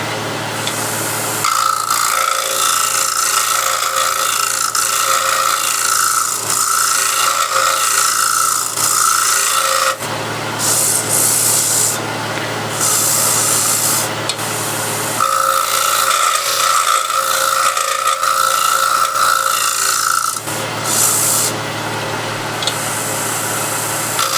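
A woodworking scraper cuts into spinning wood on a lathe, giving a loud continuous grinding hiss with a steady hum, changing in tone in two long passes with short pauses between.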